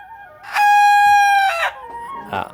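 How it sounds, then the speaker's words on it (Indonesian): A single rooster crow from an Elba and KUB crossbreed chicken, one long, loud, close call with a rising start and a held middle, followed by a few softer clucks. "ayam hasil silangan Elba dan KUB ini bertelur"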